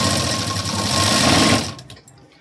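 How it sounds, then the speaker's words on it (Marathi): A sewing machine runs in one fast continuous burst while stitching a square blouse neckline, close and loud, then stops abruptly with a few soft clicks. "आता इथे एक शिलाई देऊन घेऊया."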